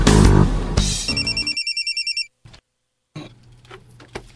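A cellphone rings with a rapid run of about ten electronic ring pulses, loud and close, then cuts off into near silence before faint background sounds return.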